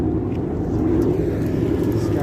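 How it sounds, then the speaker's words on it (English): A car doing a burnout at a car show, with a loud, continuous low engine roar and tyre rumble that holds steady throughout. "Oh, here's his burnout."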